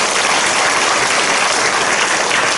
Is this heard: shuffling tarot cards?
no